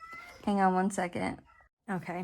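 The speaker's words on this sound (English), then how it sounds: "I apologize for my cat in the background" A pet cat meows in the background of a quiet indoor room, briefly audible around and under a person's close speech, with a short pause of silence between phrases.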